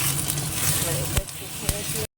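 Three eggs fry in white oil in a wok, giving a steady, close sizzle with a couple of brief sharp spatters, then stopping abruptly.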